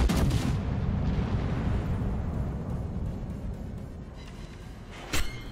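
The battleship Thunderer firing its main guns in World of Warships: a loud opening salvo that rolls into a long, thundering rumble of echoing fire, followed near the end by a sharp, close crack.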